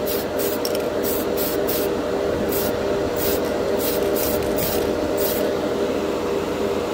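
Tamiya PS polycarbonate spray paint hisses onto a plastic spoon in a steady close blast, broken by several short bursts at the start and then regular puffs.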